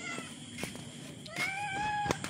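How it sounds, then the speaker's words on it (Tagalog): A cat waiting for food meows several times in quick succession, close and clear, with light rustling and footsteps around it. "Natatabaan natin na naghihintay na yung pusa ko."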